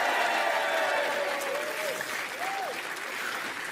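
Studio audience on the French TV game show Les 12 Coups de Midi applauds loudly and continuously, a dense sustained wall of clapping with a few faint voices rising above it.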